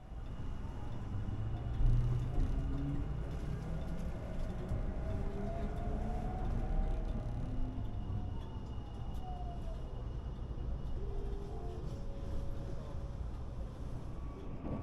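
The Osaka airport express train heard from onboard as it runs, a steady loud rumble of wheels on track with shifting tonal whines from motors rising and falling throughout, a faint voice underneath.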